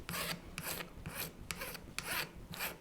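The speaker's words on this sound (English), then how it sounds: "I can actually just take my file and start filing this off" Hand file rasping along the edge of a Faux Bone sheet, six steady back-and-forth strokes with brief pauses between, close and fairly loud with a dry scraping texture.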